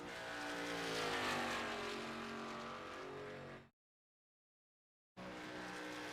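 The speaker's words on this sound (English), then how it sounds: "Cody Harger, first car on the track." The number 66 Toyota Camry race car is on track during qualifying at the Monster Mile, its engine a loud, sustained, harmonic roar. The sound cuts out abruptly for over a second, then resumes.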